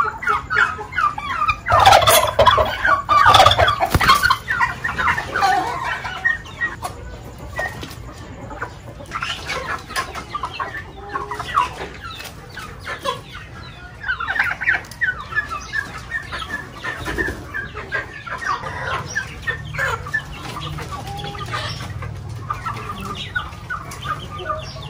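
Turkey chicks and chickens gobbling and clucking close by, with overlapping bursts of calls that come and go over steady low background noise.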